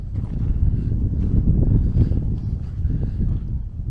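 Strong wind gusting across a microphone beside an abandoned train roundhouse in the Atacama Desert, a loud, low rumbling buffet that rises and falls steadily with no talk.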